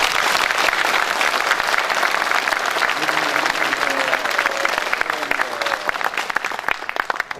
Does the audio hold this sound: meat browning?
no